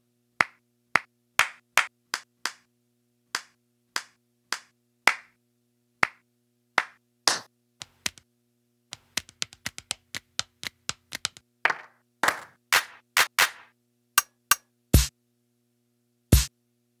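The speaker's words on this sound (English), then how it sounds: "Ended up going with a hi-hat here." Hi-hat hits from a dawless beatmaking setup: a sparse sequence of sharp, crisp percussive ticks, first evenly spaced and then in quicker irregular clusters, standing alone over a faint low hum.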